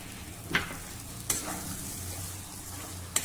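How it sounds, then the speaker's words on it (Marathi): Eggplant pieces are stir-fried with ground spice masala in a pan, giving a soft, steady sizzle with a few sharp clinks of the spatula against the pan. "ही सर्व वांगी आता या मसाल्यांबरोबर अजून 2 मिनिटांसाठी परतून घेऊ."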